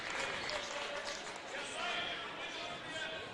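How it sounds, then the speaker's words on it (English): Crowd applause for a player checking into a high school girls' basketball game between the Tanagers and West Central Trojans, a steady broad wash of clapping and cheering under arena noise, lasting throughout. "Maya Halverson comes in, checks in for Janea Cleveland as she comes out to a round of applause."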